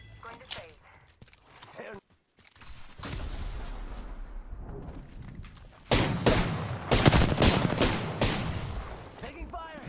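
Bursts of automatic gunfire from an Apex Legends firefight, loud and close, with rapid volleys that grow denser toward the end and a voice speaking over the shooting.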